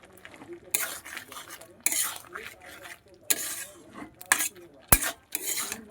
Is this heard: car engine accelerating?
no